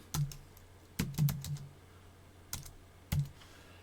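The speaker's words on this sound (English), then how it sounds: "So I'm typing in right now" Computer keystrokes tapped in short, close bursts, a few clicks at a time separated by brief pauses, crisp and moderately quiet with no voices.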